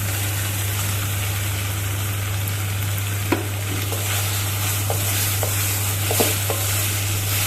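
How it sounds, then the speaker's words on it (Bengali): Pointed gourd tossed into a pan of fried poppy seeds and stirred, a constant loud sizzle over a low steady hum, broken by a few sharp clicks of the spoon against the pan. "পোস্তটা দেখো আমি ভালো করে ভেজে নিয়েছি, এবার আমি পটলগুলোকে দিয়ে দেবো।"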